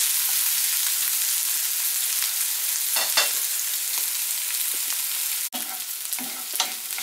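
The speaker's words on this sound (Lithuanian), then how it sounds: "Dar pakepam, kol pageltonuos." Onions fry steadily in a pan with a continuous bright sizzle, crackling pops scattered through it and a short scraping stir partway, close and loud with no talking.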